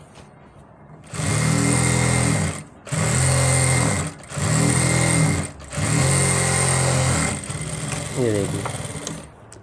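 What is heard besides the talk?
sewing machine stitching ladies' pants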